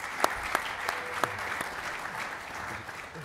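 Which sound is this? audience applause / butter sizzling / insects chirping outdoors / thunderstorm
audience applause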